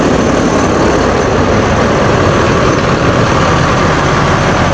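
A coach bus engine idles in a mosque parking lot, a loud and steady low diesel drone with broad rumbling noise that stays constant throughout.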